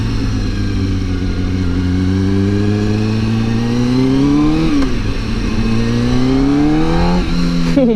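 Kawasaki ZX-6R 636 race motorcycle on slicks, its 600-class engine loud and close as it climbs steadily through the gears, with rising harmonics that drop at two clean shifts, no speech over it.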